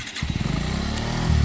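Motorcycle engine being revved by a learner rider: a short, close burst of rapid throttle pulses rising into a louder, steadier roar, with no talk.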